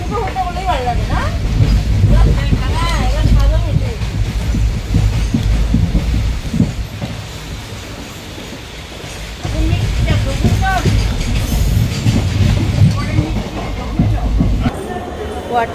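A passenger train bound for Alipurduar from Guwahati rumbles loudly and steadily on its rails, with a repeating rhythmic clatter throughout and voices murmuring faintly underneath.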